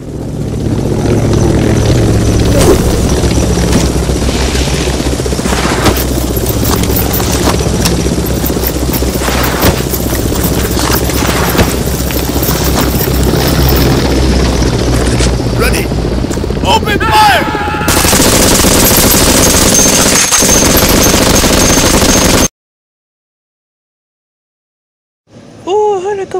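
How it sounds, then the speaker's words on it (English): Loud, dense barrage of gunfire and mechanical roar like a helicopter under attack, continuous for over twenty seconds, then abrupt silence before a brief return. "helicopter's going down!"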